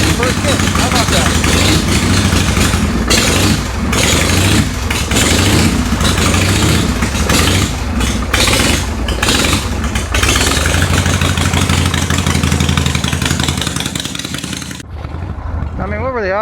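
A Harley-Davidson Shovelhead V-twin motorcycle engine running right after a kick start, loud and close with a steady, lumpy idle throbbing throughout before cutting off near the end.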